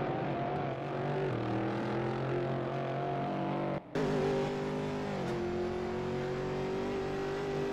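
Aston Martin GTE race cars in a sim racing game at Zolder, a close pack of engines droning and shifting pitch as they accelerate and downshift, loud and continuous with a brief gap midway.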